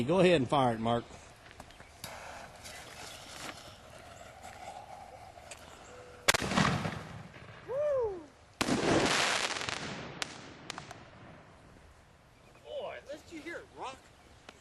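A canister firework shell launched from a small toy tank mounted on a Jeep booms sharply outdoors, followed by hissing and a second loud burst, with people talking before and between the shots.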